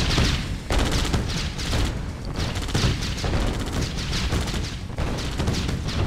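Battle sounds from the Red Alert 2 strategy game, with dense bursts of gunfire and booming explosions filling the whole stretch, loud and continuous with brief dips, while unit voice lines play faintly.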